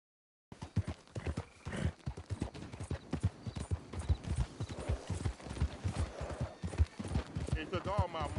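Horse hooves clip-clop steadily in the Red Dead Redemption 2 game world, close and rhythmic beneath ongoing character dialogue, with a brief whinny near the end.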